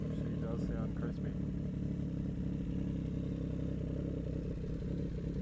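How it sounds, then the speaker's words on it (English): A motorcycle engine idles steadily with a constant low, crisp rumble close by, and a voice talks over it. "give you guys a little start up of the bike. She does sound crispy"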